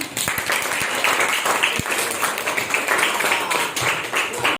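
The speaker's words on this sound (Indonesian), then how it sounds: "tepuk tangan buat kita semua" A short burst of clapping from a class in a school lesson, brisk and fairly loud, with scattered voices underneath.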